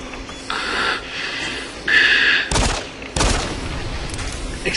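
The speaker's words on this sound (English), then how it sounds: "Explosions!" Explosions and gunfire-like blasts from the sci-fi shooter video game Doom 3, several loud broadband bursts in quick succession with mechanical rumble between them, no talking.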